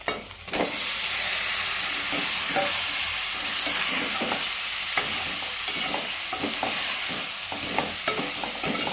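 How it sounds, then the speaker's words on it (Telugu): Masala paste for mutton curry fries in a pan, giving a continuous close sizzle broken by repeated scraping and stirring strokes, with no talking. "పచ్చి వాసన పోయే వరకు ఫ్రై చేసుకోవాలి"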